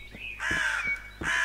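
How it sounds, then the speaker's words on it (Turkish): Crow calls in the survival video game İstila: Survival: three harsh caws, the first short, then two longer, loud and close, with no talk. "Of, kargaya bak."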